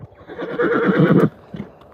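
A gelding on a trail neighs loudly to other horses as it walks past, a single long, rolling whinny up close, with soft hoof steps before and after.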